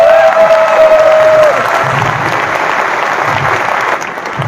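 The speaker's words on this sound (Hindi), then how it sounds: "जब तक मैं 2 घूंट पानी पी रहा हूं ताली बजते रहनी चाहिए" Audience at a talk breaking into sustained applause, a loud, even wash of many hands clapping that carries on for several seconds, with a brief tone at the start and a slight drop in volume midway.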